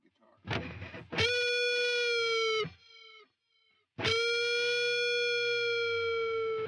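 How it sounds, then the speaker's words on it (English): A distorted electric guitar holds long sustained notes, with a faint echoing repeat trailing after each phrase before the next note enters. "you hear the delay, but you hear it faintly in the back"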